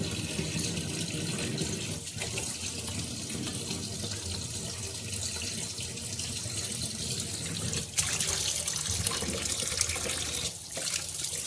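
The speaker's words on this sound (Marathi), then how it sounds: "असे मस्त असे धुत आहे आपण बांगडा मच्छी स्वच्छ अशी छान अशी साफ करत आहे" Tap water runs steadily and close by while bangda mackerel fish are washed and cleaned at a sink, a continuous splashing flow with a few brief clatters and no voices.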